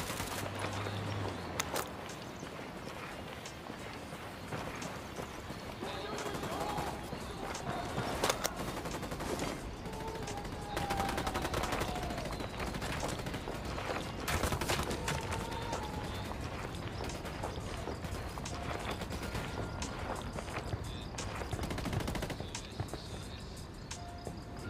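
Dense automatic and burst gunfire from a Ghost Recon Wildlands firefight, sustained crackling volleys running almost without pause over background game noise.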